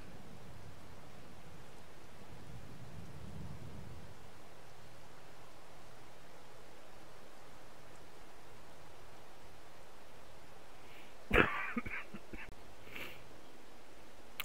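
Steady hiss of rain falling in Farming Simulator 22, a soft, even wash of noise throughout with a low rumble early on and a brief louder clatter near the end.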